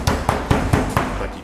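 A meat mallet pounds a cutlet laid between sheets of foil, giving about six evenly spaced, sharp thuds close up with no talking.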